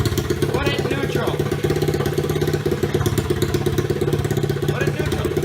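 A pit bike's small single-cylinder engine idles close by with a rapid, uneven putter and mechanical clatter, holding steady throughout.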